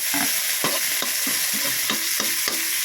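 Tomatoes being stirred and sautéed in a pan with upo, a steady sizzle broken by repeated scraping strokes of a utensil at a regular rhythm.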